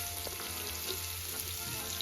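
Onion tipped into finely chopped carrots frying in a pan, a soft, steady sizzle with faint stirring, quiet and close, no voices.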